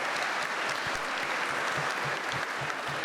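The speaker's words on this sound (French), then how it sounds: "C'est vous qu'on applaudit là" A room of people claps steadily at a French crime-fiction pleading awards event, a dense continuous wash of applause over a few seconds, with scattered louder individual claps near the front.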